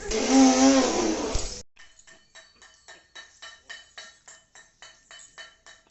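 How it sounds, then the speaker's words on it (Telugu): Dishes clink sharply one after another as they are washed, a rapid train of close, bright metallic and glass knocks in an irregular rhythm, following a burst of louder running-water or blender-like noise at the start. "గిన్నెలు కడిగేద్దాం తొందరగా"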